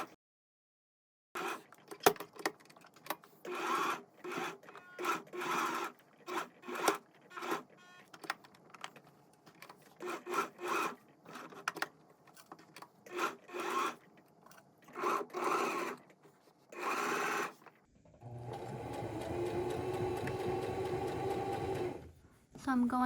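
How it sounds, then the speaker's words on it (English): A home sewing machine stitches the seam of a tabi slipper in a series of short bursts of rapid needle chatter separated by pauses, then ends with a longer continuous run of stitching. "Now I'm going to go ahead and sew"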